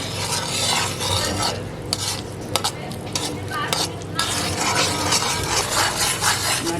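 A spoon stirs bubbling sugar syrup in a pan while chilli candy is made. Steady scraping strokes sound close and loud over a constant sizzle of boiling syrup.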